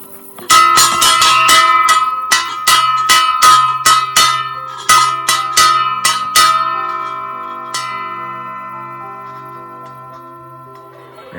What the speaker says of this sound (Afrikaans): En hoor nou net hoe klink hierdie klok as ek hom nou vir jou gaan lei.